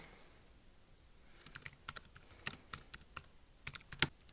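Soft computer keyboard typing, a quick irregular patter of key clicks after a quiet start, close and faint with one louder tap near the end.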